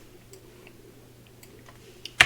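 The Page Up key on a computer keyboard is pressed, giving faint ticking key noises and then one sharper, louder click at the end, with no talking.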